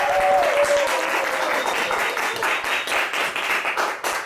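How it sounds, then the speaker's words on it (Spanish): Audience applause fills a room at a spoken storytelling event, steady dense clapping from many hands lasting the whole span, loud and close. "¡Fuerte aplauso!"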